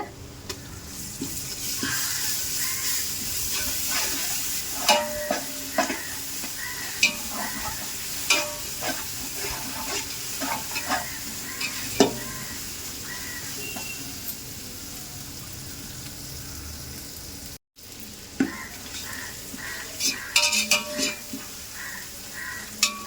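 Ginger-garlic paste sautéing in hot oil in a pan for mutton biryani, a steady sizzle broken by frequent scraping stirs and light metallic clinks of a spoon against the pot, close and continuous with one brief dropout.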